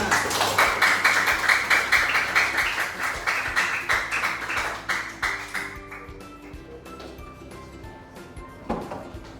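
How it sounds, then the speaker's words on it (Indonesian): Classroom of primary school pupils clapping for a classmate who has stepped up to the front, a dense burst of hand claps that fades out after several seconds, followed by a few scattered taps and a brief voice. "Kasih tepuk tangan dulu untuk temannya"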